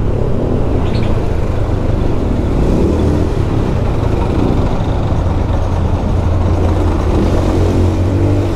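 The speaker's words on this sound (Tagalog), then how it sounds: "Uy, traffic." Steady, loud road and engine rumble heard from aboard a Honda BeAT Fi motorcycle ridden in a long-distance endurance run through traffic, a dense continuous roar with no voices.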